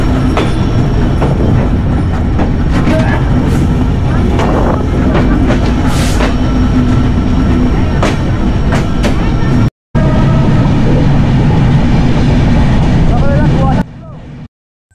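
A passenger train in Bangladesh runs between the Darshana and Chuadanga railway stations, with a loud steady rumble and rhythmic wheel clatter heard from inside the carriage and faint voices in the background.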